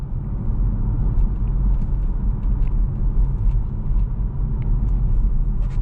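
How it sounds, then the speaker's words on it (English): Inside a Kia EV6 GT Line on the move, tire roar and cabin noise form a steady low rumble with a soft hiss, continuous and fairly loud, with no engine note and no talking. "all you're hearing is tire noise and cabin noise"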